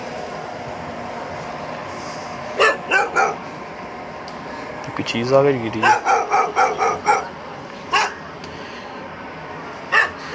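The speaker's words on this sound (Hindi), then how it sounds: "बाकी ये कुत्ते जो अभी भौंक रहे हैं," Dogs barking at night during an outdoor ghost-hunting outing in Pakistan, several bursts of barks from a short distance over steady background noise, with someone talking briefly.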